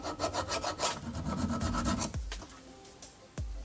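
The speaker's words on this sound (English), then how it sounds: "Using metal wire brush, remove rust, dirt and grime, and if necessary," Metal file rasping rust off a brake pad holder bracket from an Opel/Vauxhall Astra J, a series of close, rhythmic scraping strokes followed by a couple of sharp metallic knocks, with no talk.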